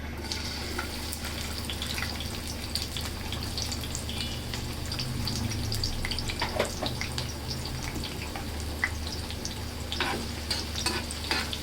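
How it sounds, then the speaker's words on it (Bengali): Onions sizzle in a pan with small dried fish, a continuous soft frying crackle over a low steady hum, with scattered light pops throughout. "পেঁয়াজটা একটু ভাজা হোক।"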